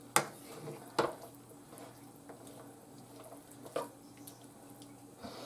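A spoon stirs canned beans with mustard and garlic in a pot, making a few soft, wet squishes and light clinks against the pot, faint and close with quiet gaps between them.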